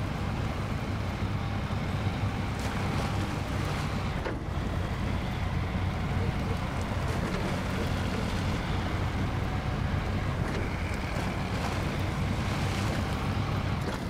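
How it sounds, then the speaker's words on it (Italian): A heavy truck with dual tires plows through water in the Snowrunner video game, a steady dense rumble and splashing wash that runs continuously and loud throughout, with no talk. "Guardate come va dentro in acqua, raga."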